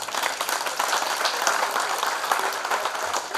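Audience at an evening municipal ceremony in Serbia giving a sustained burst of applause, many hands clapping densely and steadily throughout, fairly loud and close.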